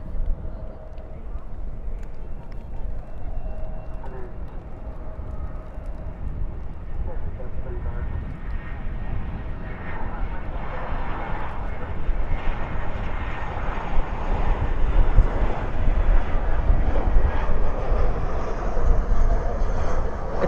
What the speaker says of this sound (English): We have an arrival on American Airlines A320.